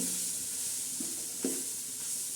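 Curry leaves temper in hot oil for a simple biryani-style pulao, giving a steady, close, even sizzle and hiss with a couple of brief pops breaking through.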